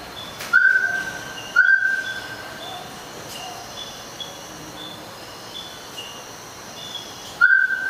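A thin, high whistled bird call repeats three times at wide intervals, fairly clear over a quiet background hiss.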